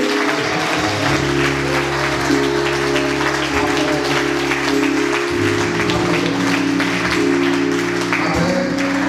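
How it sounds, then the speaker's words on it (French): Church congregation applauding and cheering loudly for the Holy Spirit, a sustained dense wash of clapping and voices that continues steadily throughout, with music tones running underneath. "Je voudrais que tu acclames fortement le Saint-Esprit."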